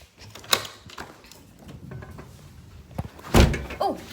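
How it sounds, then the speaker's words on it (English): A house door slams shut outdoors during a storm, with heavy rain and a tornado watch in the area: a loud sharp bang, preceded by a few lighter knocks and clatters. "Oh gosh, I accidentally slammed the door."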